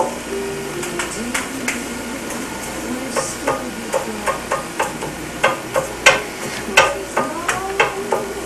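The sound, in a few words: cooking lefse on a griddle, flipping it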